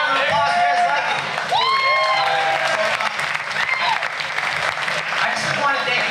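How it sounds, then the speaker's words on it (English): Crowd at a gym opening applauding and cheering, with whoops and shouts riding over continuous loud clapping throughout. "Big round of applause if you guys like it."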